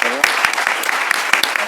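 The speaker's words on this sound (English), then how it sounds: "Let's first get a round of applause for" An audience at a panel discussion on embryo law and ethics claps in a brief, steady burst of applause, with sharp individual claps standing out and some voices mixed in.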